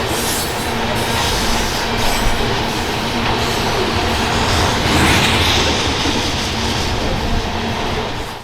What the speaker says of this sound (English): This loaded crude oil train is coming off of the MRL